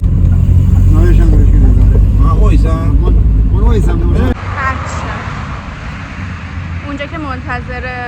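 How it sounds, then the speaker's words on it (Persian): A car drives along a road through northern countryside, its engine hum loud and close at first, then dropping to quieter road noise partway through, with a person talking over it. "با ماشین میرم."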